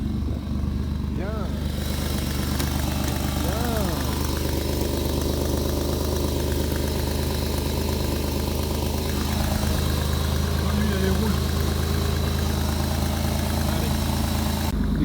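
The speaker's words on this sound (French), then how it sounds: "Démarrage à froid, frère." A BMW engine idles after a cold start, holding a loud, steady mid-pitched drone and rumble throughout, with a few brief higher tones rising over it near the start.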